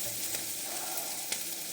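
Meatballs brown in a frying pan with a steady, close sizzle and a faint clack as the pan is shaken.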